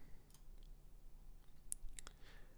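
A computer mouse clicks a Save button, a few faint, brief clicks over a quiet background.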